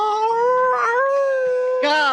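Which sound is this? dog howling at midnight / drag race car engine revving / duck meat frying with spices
dog howling at midnight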